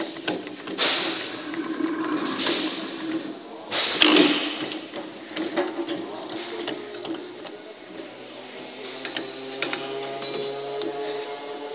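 A quick-release clamping crank being wound onto the shaft of a wheel balancer, holding a centering cone and tyre, with rapid metallic ratcheting and whirring, a sharp clunk near the start, then steady mechanical winding, close and fairly loud.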